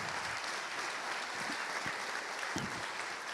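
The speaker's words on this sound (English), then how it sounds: "So how about a round of applause for that?" Steady audience applause for business challenge finalists, a dense wash of many hands clapping, fairly distant and constant throughout, with no talk.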